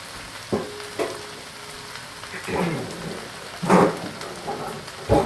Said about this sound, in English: Add in our tomatoes and onions.